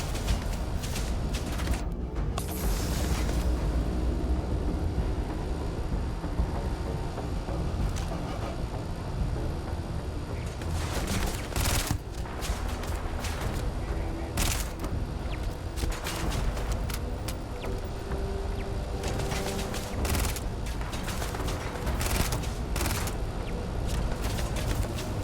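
Turret gunfire in a Starfield firefight, a dense, continuous barrage of rapid shots and bursts over a loud rumbling battle bed, with sharper cracks scattered throughout.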